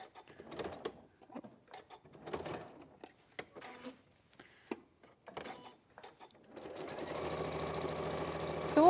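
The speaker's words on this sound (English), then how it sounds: "So all I'm doing to sew quite fast is I've chosen a spot on the machine foot to watch to make sure I'm following it straight every time." After a few seconds of quiet handling noises, a sewing machine starts up and runs fast and steadily to the end as it stitches a rucksack bag seam.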